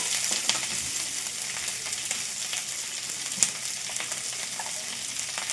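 Onion pieces with curry leaves fry in a pan for a tamarind stew, giving a steady, close, bright sizzle with light crackles and one sharper pop, no voices.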